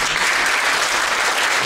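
Loud, dense audience applause at a concert hall, a continuous wash of many hands clapping at once with no gaps, close and full throughout the short burst.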